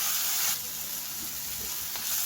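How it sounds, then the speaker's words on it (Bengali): A chicken patia mixture with ginger and garlic being stirred in a frying pan, a steady close sizzle with soft stirring scrapes and no voices. "কিছুক্ষণের জন্য এটাকে আমি ভালো করে একটু নাড়াচাড়া করে নিই"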